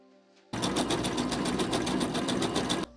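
A sewing machine runs in one steady burst of rapid, even stitching, sewing facing seams on a vest, loud and close for about two seconds before stopping abruptly.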